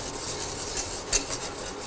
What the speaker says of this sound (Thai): ก็คนไปก็ใส่น้ำตาลทรายลงไปเลย